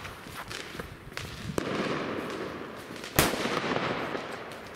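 The King firecracker set off outdoors, a single sharp loud bang late on, preceded by smaller crackling pops and faint background noise.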